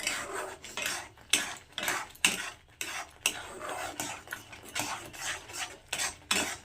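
Semolina being stirred continuously in a pan over low gas, giving repeated rhythmic scraping and clinking of a utensil against the pan, close and steady with no talking.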